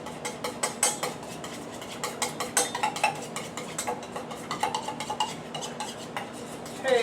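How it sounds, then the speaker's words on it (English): A spoon stirs stuffed egg filling in a bowl, a steady run of quick light clicks and scrapes against the bowl, close and fairly quiet, with no talking. "you can stir it up like this with a spoon"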